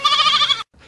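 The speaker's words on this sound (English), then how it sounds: "I'll just swap it for this sheep." A sheep gives a single loud, close bleat, a wavering nasal cry lasting just over half a second before cutting off into near silence.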